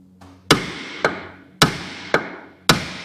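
Five sharp metallic hammer blows strike a car part in an irregular rhythm, each ringing briefly before the next, close and loud with no talk.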